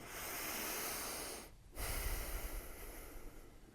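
Slow deep breath taken close to the microphone: a long, soft exhale, a short pause, then a deeper, rougher inhale, with no talking.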